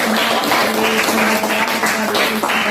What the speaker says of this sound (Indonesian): Kita berikan aplaus untuk kita